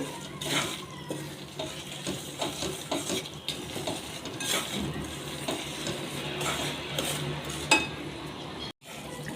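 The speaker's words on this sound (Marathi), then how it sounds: "तुपात छान असं भाजून घेऊ सतत असं परतत राहायचं" Moong dal roasts in ghee in a pan, stirred continuously with a utensil that scrapes and clinks against the metal under a steady soft sizzle, close and alone, with no talking.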